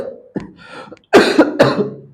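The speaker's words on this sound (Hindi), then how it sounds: "यार खांसी बहुत बेकार चीज है साहब, अच्छा अच्छा को ले डूबती है।" A person coughing during a live Class 12 biology lesson: a small throat sound, then a burst of three harsh, loud coughs in quick succession, close to the microphone, with no talk.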